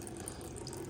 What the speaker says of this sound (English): a bit of transmission fluids draining here from the two lines that go to the transmission cooler